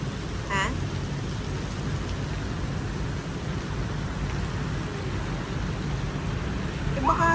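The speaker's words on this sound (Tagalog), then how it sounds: "And it's raining." Steady rain falls, a continuous soft hiss of drops that holds evenly throughout without a break.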